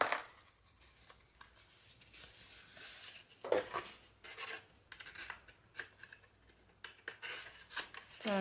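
Scissors cutting paper for a handmade mini album, close crisp snips and rasping slices in irregular bursts, with soft rustling of paper between cuts.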